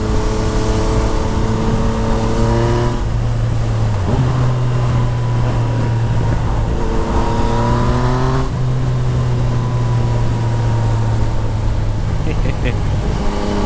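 A 2014 Yamaha MT-09 motorcycle with a full Akrapovic exhaust accelerates hard through the gears on a test ride. The loud engine note rises in pitch, drops at each shift, then climbs again, with wind roar throughout.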